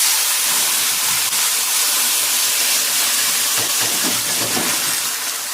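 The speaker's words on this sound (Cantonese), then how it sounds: "咁啊半煎住咁加啲滾水落去啦" Boiling water is poured into a wok of half-fried fish for Nanchang-style spicy boiled fish, and it sets off a loud, steady hiss of steam that lasts throughout with some sputtering, and no one speaks.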